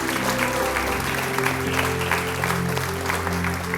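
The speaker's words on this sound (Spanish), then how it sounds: "Vamos a dar un aplauso de alabanza al Señor." A church congregation claps in praise during a sermon, a dense steady wash of hands with sustained organ or keyboard tones beneath.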